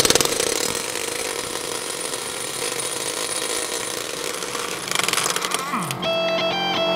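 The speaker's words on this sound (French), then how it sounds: "Puissance maximale. Et j'utilise une douille à choc de 30 mm." An impact wrench at full power drives a 30 mm impact socket to loosen a car wheel nut, a loud sustained mechanical rattle and whine running steadily for several seconds before cutting off near the end.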